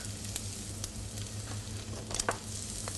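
Onions sizzle and fry in a pan while being stirred, a steady close crackle and hiss with occasional scraping strokes of the spoon, fairly quiet and uninterrupted.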